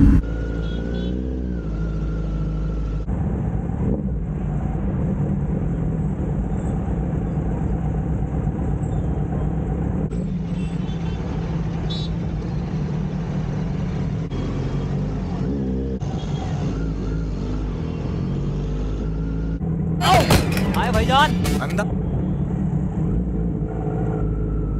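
Road traffic around a Kawasaki Z900 motorcycle in a market area, with a steady engine drone and passing vehicles, plus a brief louder burst of noise near the end.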